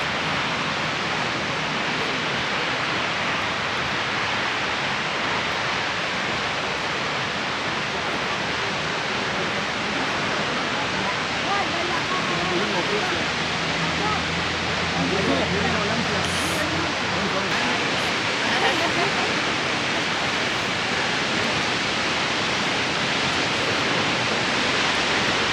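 A waterfall on Washington's Olympic Peninsula gives a constant, dense roar of rushing water that is loud and unbroken for the whole stretch, with faint voices briefly audible partway through.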